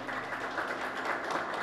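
Applause for a cabinet and commissioner at a public gathering, a dense steady patter of many hands lasting under two seconds and stopping abruptly.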